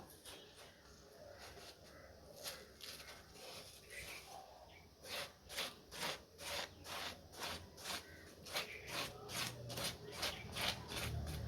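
A knife cuts the flesh out from inside a halved watermelon, making close, rhythmic rasping strokes that become steadier and quicker about halfway through.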